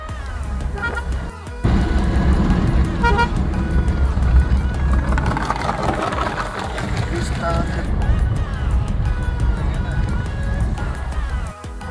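A car driven along a road, its engine and tyre noise steady throughout, close and fairly loud, with a person talking over it.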